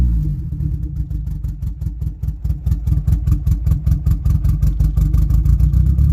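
Boosted Honda Civic engine with a faulty idle air control valve, idling close up as a loud deep rumble that sags, then surges back up into a fast, steady pulsing idle, with no talk.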